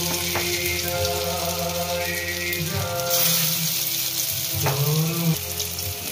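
Lentil fritters (bora) dropped one by one into very hot oil in a kadai, a steady sizzling hiss with soft plops as each piece goes in, with no talking over it.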